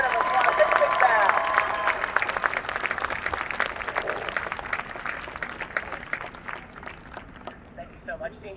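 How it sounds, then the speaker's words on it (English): An audience gives a big round of applause for the seniors at a Pride event at YSU, loud and crowded at first, then thinning into scattered claps that fade toward the end. "Let's hear a big round of applause for all of our seniors right up here in front"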